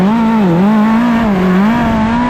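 A race car launching and accelerating, caught from a helmet-mounted camera: a loud, close engine drone whose pitch wavers and climbs steadily with no talk over it.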